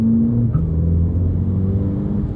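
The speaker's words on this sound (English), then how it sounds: "now in sport mode, it changes the sound of the car, and the gears it stays longer in the gear" A 2022 VW Polo GTI accelerating in sport mode on a drive in Cape Town, its steady engine drone rising with a gear change partway through, heard from inside the car with no talk.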